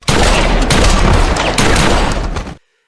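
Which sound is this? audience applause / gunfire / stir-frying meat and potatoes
gunfire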